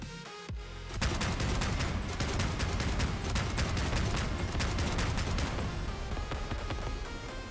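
Five mandrake weapons firing together in the vehicle combat game Crossout, a dense rapid barrage of loud overlapping shots that starts abruptly and continues without pause, with no talking.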